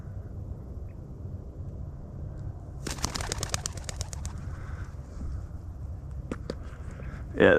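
Pigeon being trained outdoors: a burst of wing flaps and fluttering midway, followed by a couple of sharp knocks, over a quiet background hum.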